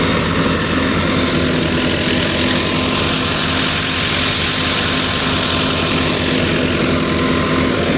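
A Hudaibiya 2015 model wheat thresher runs off a 2010 Massey Ferguson 375 tractor, giving a loud, steady mechanical drone with a deep engine hum that holds unbroken for the whole stretch, with no voices.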